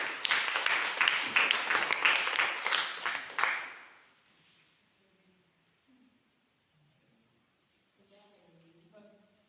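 A seminar audience claps loudly and rapidly for about three and a half seconds before the applause cuts off abruptly, followed by near quiet and then faint voices talking.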